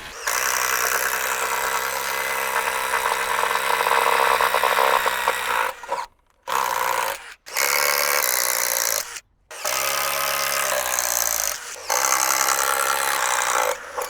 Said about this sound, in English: Now we'll bore out these holes with an inch bit.